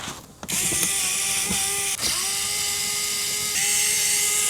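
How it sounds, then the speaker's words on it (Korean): A power tool whirs loudly up close while unfastening a car's undercover, with a steady high-pitched spin broken by brief pauses and ratcheting changes in pitch. "먼저 언더커버 탈거해 줄게요."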